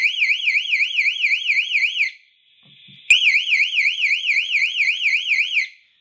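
A wired home alarm system's shrill electronic warning warbles rapidly in a rising-falling pattern, stops briefly, then sounds again, loud and close.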